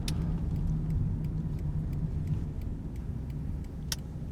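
A car drives along a snow-covered road through a park, with steady low engine and tire rumble heard from inside, a faint hum on top and a few light clicks.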